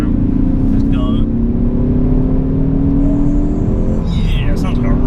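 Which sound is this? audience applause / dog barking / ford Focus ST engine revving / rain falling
ford Focus ST engine revving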